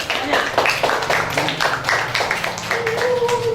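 Students in a grade 6 Islamic religious education class at an elementary school clap for a classmate, a brief scattered patter of hands with children's voices chattering over it and a teacher's voice nearby.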